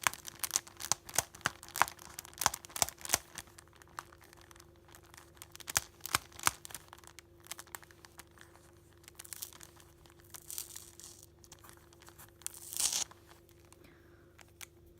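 A sticker label being peeled off a surface, close crinkling and tearing crackles in quick bursts, then sparser quieter rips, with no talking.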